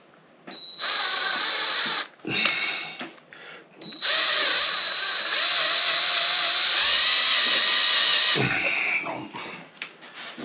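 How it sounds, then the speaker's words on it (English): A power drill bores into a part from a Honda CB450 engine during a cafe racer teardown, whining loudly and steadily in long bursts with short pauses between, close to the mic. "It's a nice drill bit."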